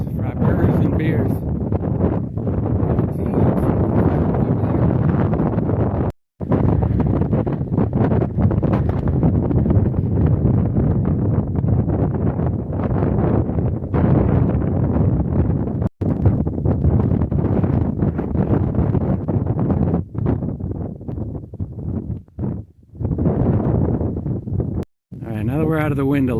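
Strong wind buffets the microphone on an exposed mountain peak along the Long Trail, a loud, roaring rumble that gusts throughout, with brief drops in between and voices talking beneath it.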